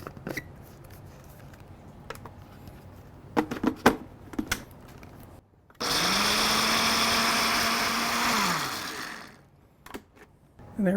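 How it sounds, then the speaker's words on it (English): After some clicks and knocks, a Ninja shake blender whirs loudly for about three seconds at a steady pitch, then winds down and stops. "I'm just using the shake blender thing here for my Ninja."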